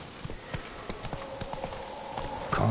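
Roach, a horse in The Witcher 3, gallops with quick rhythmic hoofbeats thudding clearly in a continuous run, ending in a brief louder burst.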